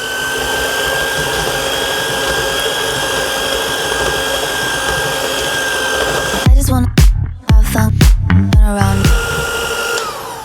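An electric mixer whirs steadily through cake batter for a quick goûter, a loud continuous motor hum. Near the end it turns choppy, with the speed changing and the beaters knocking against the bowl.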